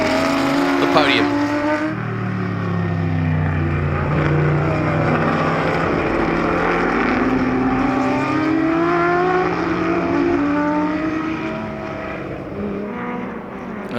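A Ferrari and other vintage production GT race cars up to 5 litres roar past on the Sonoma track, a continuous loud engine drone with shifting tones and a brief pass at the start, a race commentator speaking over it.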